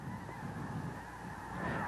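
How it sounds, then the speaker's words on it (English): A large flock of geese, mostly snow geese with some white-fronted and lesser Canada geese, honks in a dense, continuous chorus at a goose camp in Tamaulipas, Mexico, heard from a distance and without talk. "Snows mostly. There's also white-fronted geese or speckled bellies and a few lesser Canadians"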